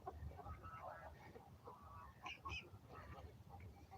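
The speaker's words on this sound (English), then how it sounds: "There's some duckies here, a few geese." Geese honk and ducks call at a pond, a few faint and fairly distant honks rising over low outdoor background noise, with some indistinct murmuring underneath.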